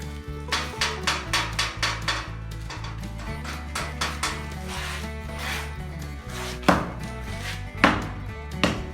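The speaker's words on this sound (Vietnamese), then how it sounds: "Bây giờ thì anh Hùng đang băm cái nền sân cũ đấy các bạn" Old concrete yard surface chipped by hand, sharp repeated chopping strikes in a steady rhythm with a couple of louder hits near the end, close by.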